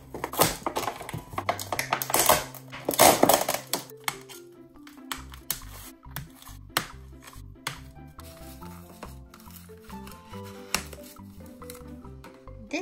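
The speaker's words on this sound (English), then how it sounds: "Let's open the box and take a closer look." Cardboard and plastic packaging of a Disney Frozen 2 Princess Anna doll box being opened, with crinkling, tapping and scraping handling noises in uneven bursts, loudest early, then lighter clicks over soft background music.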